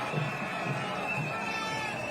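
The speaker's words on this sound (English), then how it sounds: "the crowds get bigger at the side of the road" Roadside crowd at the Tour du Rwanda cycling race, a steady murmur of many voices with faint cheering and shouting, moderately distant, under a high steady tone.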